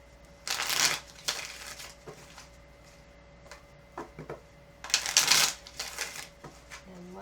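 Two bursts of playing cards being shuffled, a crisp riffling rush near the start and another later, with quieter handling clicks between.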